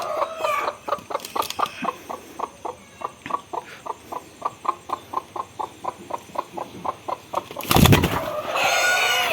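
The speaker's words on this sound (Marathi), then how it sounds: "ही कोंबडी तिचं अंड लगेच कशी चोचीनं तिच्या पंखाखाली घेते ती तुम्ही पहा" A hen handling her egg beside a farmyard nest gives a steady run of about two dozen short, evenly spaced clucks, close and clear, followed near the end by a sudden burst of flapping and scuffling.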